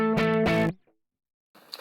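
A bright, overdriven electric guitar through a Kemper Profiling Amplifier profile set on the edge of breakup plays two sustained chords with slight grit, then cuts off; faint noisy strumming returns briefly near the end.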